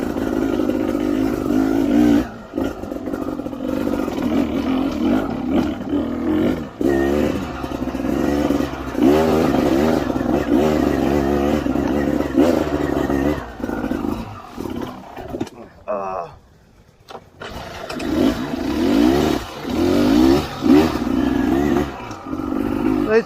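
A motorcycle rides over diagonal logs on a technical trail, its engine roaring and revving unevenly with clattering bumps, loud and close throughout, briefly dropping off near the end.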